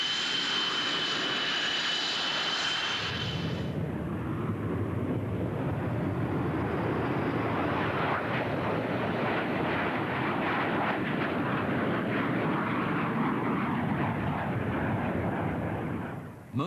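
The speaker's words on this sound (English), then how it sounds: "first Hornet flight begins" An F/A-18 Hornet jet in flight gives a loud, continuous broadband engine roar that swells after a brief high whine and holds steady before cutting off.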